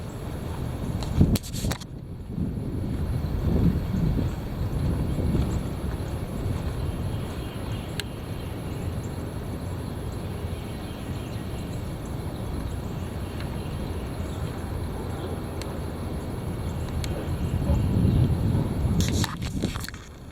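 Heavy wind roars in a steady low rumble for the full twenty seconds, buffeting with louder gusts near the start and again toward the end.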